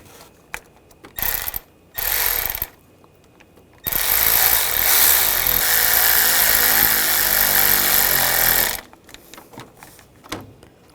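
A ratchet on a Honda CR-V tightens coolant hose clamps at the throttle body, heard in short clicking bursts and then one long, steady run of rapid ratcheting that stops abruptly.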